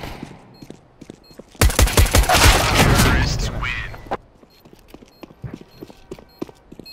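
Close, rapid gunfire bursts erupt in a dense volley in CS:GO, followed by scattered footsteps and small clicks. A voice speaks faintly over the quieter stretches.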